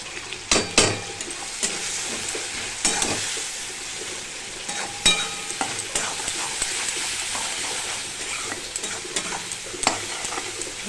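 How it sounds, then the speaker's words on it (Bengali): Fish seasoned with salt and turmeric fries in hot oil, giving a constant loud sizzle broken by sharp clatters and scrapes as it is stirred and turned in the pan. "ভালো করে ভাজা হতে থাকুক,"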